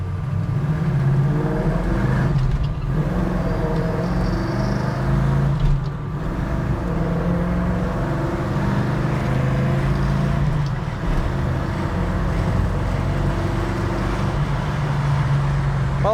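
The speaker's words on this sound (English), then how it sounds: "I'm gonna take it up here and run it through the gears a little bit for you guys." A 1965 Chevrolet Chevelle Malibu SS V8 pulls hard from inside the car, engine droning and rising through each gear, with short dips at the shifts, loud and steady throughout with no talk.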